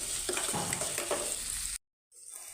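Onion, green chillies and curry leaves fry in a pan for a pumpkin palya, a steady close hiss of sizzling oil with light stirring, cut off abruptly near the end before a faint return.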